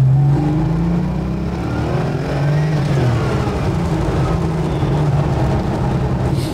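Porsche Turbo sports car engine, the rear-engined model marking its 50th anniversary, drones steadily from inside the car while driving. The note is low, loud and even, with only a faint turbo whistle and slight shifts in pitch.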